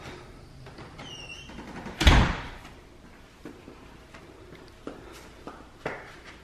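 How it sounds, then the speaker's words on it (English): A door shuts with one sharp thud, followed by softer knocks and faint shuffling movement in a quiet indoor room. "Shut the door, dummy."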